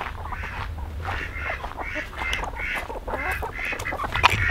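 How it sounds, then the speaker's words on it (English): Chickens, 10-week-old pasture-raised meat birds shut in a coop on a farm, clucking and calling in a steady run of short squawks, fairly close and moderately loud, with no talk. "I bet the chickens want to come out."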